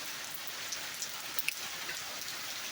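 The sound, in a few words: rain falling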